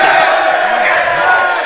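A crowd at an EGL4 Call of Duty: Black Ops esports event on Xbox 360 cheers and roars loudly for the player Vapes, a dense, sustained wall of voices.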